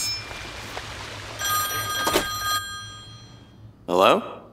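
A phone booth telephone rings in the video game Sunset Overdrive, with two loud bursts of electronic ringing over a background game ambience. A short voice-like sound follows near the end.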